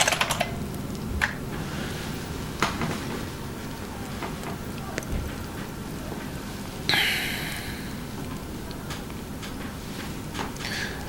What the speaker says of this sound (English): Oh, it's a Model M keyboard.